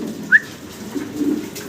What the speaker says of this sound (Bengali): ছোট ছোট কবুতর দেখাইতেছি আজকে